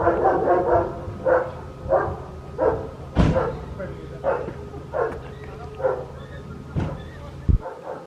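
Guard dogs at HMP Lindholme prison bark repeatedly in a steady rhythm of loud, fairly close barks, with a person talking at points.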